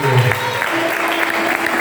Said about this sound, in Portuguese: Aplaude a Deus e glorifica o nome do Senhor